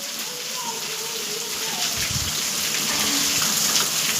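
Monsoon rain pours steadily over a village, a dense, even hiss that holds constant from start to finish, with faint background sounds beneath the downpour.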